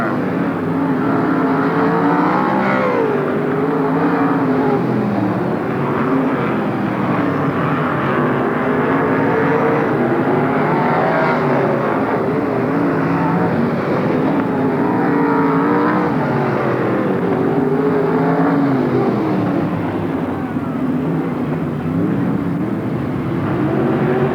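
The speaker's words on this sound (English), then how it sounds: "1 lap to go for the leader, Jerry Miller." 360 sprint cars race around a dirt oval at Marysville, California, on the final lap, engines howling and rising and falling continuously as the pack circles, loud and steady throughout with no gaps.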